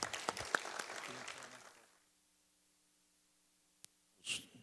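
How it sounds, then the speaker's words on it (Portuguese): Brief applause in a legislative assembly session, a short burst of clapping from those present that dies away into quiet, with a faint voice at the end. "Aplausos para os senhores que estão aqui presentes."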